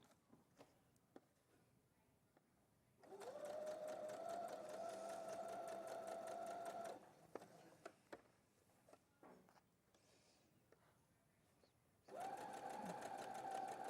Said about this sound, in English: So now I'm just slowly following the neckline and just stitching it